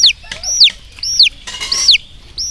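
A young chick with a broken leg cheeps loudly and close by, a series of about five sharp, descending peeps at a steady pace, with soft clucking between them.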